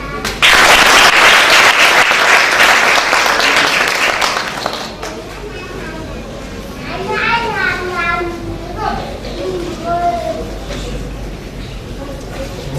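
An audience at a stage program breaks into loud applause that fills the first seconds, then fades to scattered clapping beneath a crowd's murmur and children's voices.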